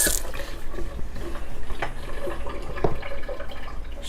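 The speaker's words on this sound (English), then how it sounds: "Wash this off my hands." Hands are rinsed under a running kitchen tap while making a green smoothie, a soft, steady trickle of water with small splashes, close and fairly quiet.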